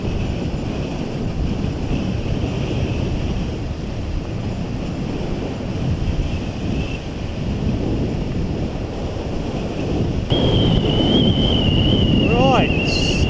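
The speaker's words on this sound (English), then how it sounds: "still blowing a gale" Strong gale wind buffets the microphone on a hilltop lookout during a solo adventure ride on a Honda CRF250, a steady loud roar that rises further near the end, where a faint whistling tone appears.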